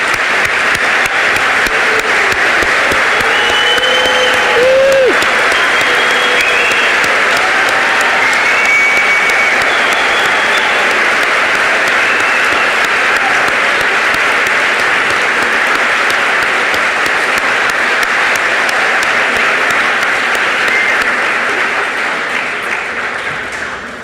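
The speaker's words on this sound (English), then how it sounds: "ask all of our graduating seniors to stand so that we can give them a round of applause" A large crowd at a school graduation finale ceremony gives graduating seniors sustained, loud applause lasting over twenty seconds, steady throughout and tapering slightly at the end.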